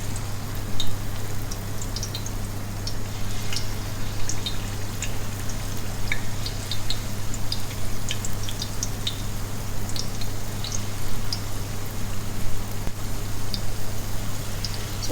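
Chicken pieces for takeaway-style Chinese lemon chicken fry in hot oil, a steady close sizzle dotted with sharp crackles and spits over a low constant hum, with no talking.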